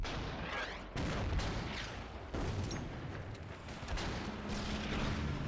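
Artillery fire in the WWII strategy game Order of Battle: Kriegsmarine during the assault on Gdansk: several heavy booming shots land at intervals, each sharp blast followed by a rumbling tail.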